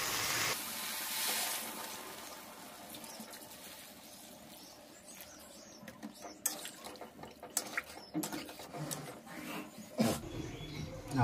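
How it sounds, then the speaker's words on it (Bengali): Masala spice paste sizzles and spits while being fried down in oil, with a quiet crackle that turns into sharper stirring scrapes and clinks of a utensil in the pan, growing louder toward the end. "দেখুন কষাতে কষাতে মশলা তেল ছেড়ে দিয়েছে"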